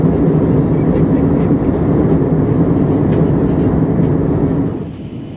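Steady, loud airplane cabin drone during a flight from Sambhajinagar toward Delhi, a continuous broadband roar that dips slightly at the very end.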